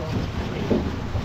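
A boat on Begnas Lake near Pokhara, heard as a steady wash of water and wind buffeting the microphone, with low rumbling swells and no clear voices.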